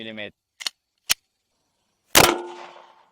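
A single sharp 9 mm pistol shot fired into a test target, loud and close, with a ringing decay trailing off for about a second after a few small clicks.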